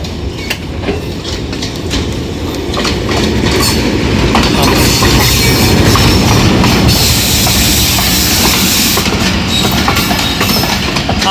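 Pakistan Express train running on rails, with loud, steady rumbling and clattering wheels close by and some squealing from the track. The sound grows slightly louder partway through.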